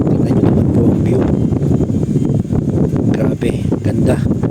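Strong wind gusts buffet the microphone on the summit of Mt. Banoy in Batangas, a loud continuous low roar with fluctuating rumbles throughout, and a voice is faintly mixed into the blustery noise.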